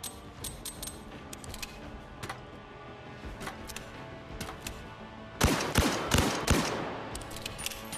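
Several sharp revolver gunshots in the VR game Zero Caliber: Reloaded, sparse single pops at first, then a louder cluster of rapid shots near the end, with no talking.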